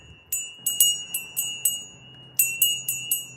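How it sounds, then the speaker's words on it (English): A bright metal bell struck about a dozen times in two quick runs separated by a short pause, each strike ringing clearly and closely. "So I'm going to ring the bell."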